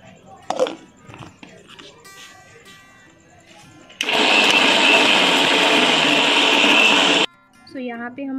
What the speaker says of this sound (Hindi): अब हम लोग एक मिक्सर जार ले लेंगे, उसमें हम लोग चिकन का कीमा बना लेंगे।